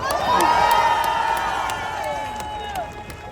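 A crowd at a presidential campaign rally in Anseong, South Korea, cheers and whoops loudly, with scattered claps and shrill voices, then fades a little toward the end.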